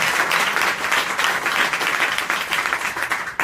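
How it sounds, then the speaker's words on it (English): A concert audience at a live show applauds steadily and loudly, dense clapping filling the space without pause. "Let's hear it for the big clapping."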